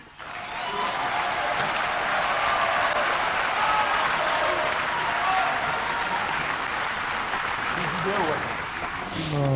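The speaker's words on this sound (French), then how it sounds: "Encore une fois, nous applaudissons notre chef de l'État." A large crowd applauds its head of state in the Democratic Republic of Congo, a loud, dense, steady wash of clapping that holds for nearly ten seconds, with a few voices and cheers mixed in toward the end.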